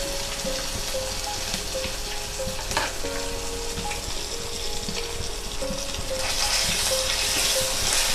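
Mango pulp fries in a tempering with a steady sizzle, occasional stirring scrapes and faint clinks, close by, with a few tonal beeps in the background and no talking.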